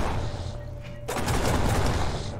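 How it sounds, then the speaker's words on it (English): Rapid automatic shotgun fire from a video game weapon in Genesis Alpha One, a dense continuous burst of blasts starting about a second in and hammering on loudly to the end. "Fully automatic shotgun."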